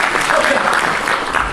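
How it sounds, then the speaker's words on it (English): An audience at a live concert at COMU University in Canakkale, Turkey claps in a dense, steady patter throughout, with a voice faintly over it. "I can't believe you're clapping because it's just a picture of me."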